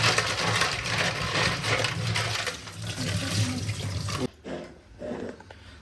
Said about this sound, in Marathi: म्हणजे कसं त्याला घाणबीण लागलेलं आहे ना वरती, चिखल वगैरे धुवून घेऊ